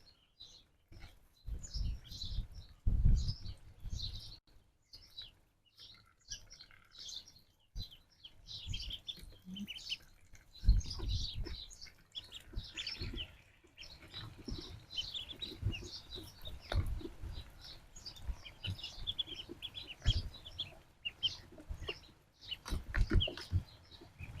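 High-pitched peeping from a group of ducklings, many small chirps overlapping in irregular bursts, with occasional thumps and shuffling nearby.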